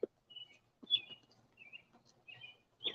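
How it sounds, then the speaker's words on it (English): A small bird chirps in short, bright, separate calls spread over a few seconds, fairly close in a quiet setting, with a faint low rustle between the calls. "That bird."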